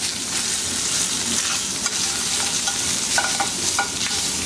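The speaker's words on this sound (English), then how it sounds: "See this garlic's getting brown? So now we're going to break this up." Sausage and garlic frying in extra virgin olive oil in a stainless steel pan, a loud steady sizzle with scraping and stirring as the meat is broken up, close and continuous.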